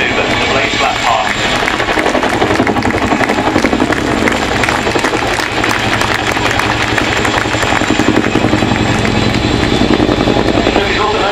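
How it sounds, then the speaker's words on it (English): A Chinook helicopter at the Waddington airshow fills the air with a continuous loud, deep rotor roar and dense broadband engine noise, steady throughout with no pauses. "Chinook is also known for its deep bass and waka-waka noise"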